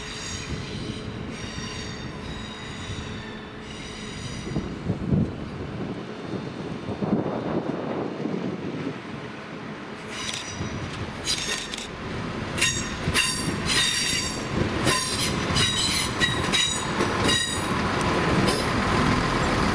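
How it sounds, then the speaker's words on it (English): Northern Class 170 unit 170 472 rolls through Doncaster, a loud rumbling pass with metallic wheel squeals and screeches, wind buffeting the microphone, no talking. "this is 2R29, the 1235 Northern service to Sheffield from Adwick with 170 472"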